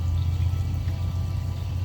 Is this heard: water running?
yes